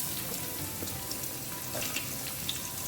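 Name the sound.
chopped onions frying in a pan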